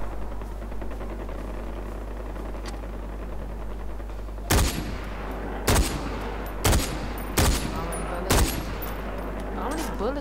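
Bursts of gunfire in Far Cry 4 as a player shoots at a charging rhino: five loud, sharp shots spaced about a second apart over a steady hum of game ambience.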